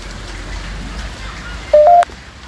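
Steady rain falls outdoors at Cardiff Bay as a continuous soft hiss throughout. A brief electronic beep sounds near the end.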